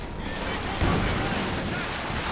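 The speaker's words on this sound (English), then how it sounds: "There's the walking Stuka again." Rocket artillery from the walking Stuka fires in Company of Heroes 2, a dense, continuous barrage of booms and crackling explosions with one heavier impact near the middle, set against the loud din of battle.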